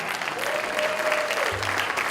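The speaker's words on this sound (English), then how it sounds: "We need a round of applause." Audience applause at a keynote speech, a brief dense patter of clapping from a room of listeners with a faint tone and a low thump partway through.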